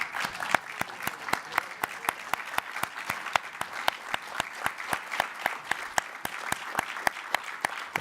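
A standing audience at a blockchain summit gives a sustained round of applause for several seconds, with sharp, regularly spaced claps standing out prominently over the crowd's dense clapping.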